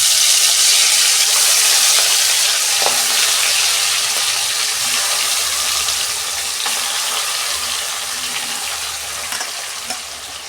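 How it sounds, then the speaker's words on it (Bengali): Hilsa fish frying in hot oil, a loud dense crackling sizzle that fills the whole stretch and eases slightly toward the end, with faint stirring taps and no talk. "তেল গরম হয়ে গেছে, আমি মাছগুলো দিয়ে দিচ্ছি।"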